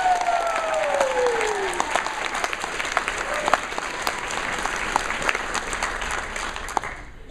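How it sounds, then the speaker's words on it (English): A crowd applauds at a convention's Sunday closing ceremony as cosplayers are called to stand, producing a long, steady roar of many hands clapping. A voice speaks briefly at the start over the applause. "Give them a big round of applause."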